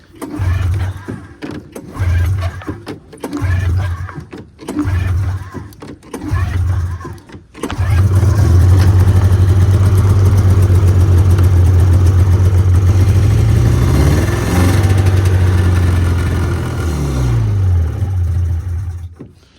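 An old snowmobile engine cranks in several short bursts with gaps between them, then fires up and settles into a loud, steady close-up idle that wavers and briefly rises near the end.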